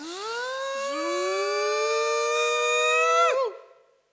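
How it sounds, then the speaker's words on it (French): A civil-defense style siren rises in a sweeping tone, holds a long steady wail, then drops off sharply and fades, heard alone with no voices. "La sirène a sonné."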